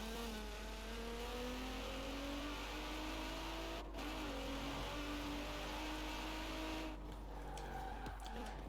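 A Nissan GT-R engine in Forza Horizon 4 revs steadily and loudly throughout, its pitch rising and shifting through gears, with brief dips near the middle and end.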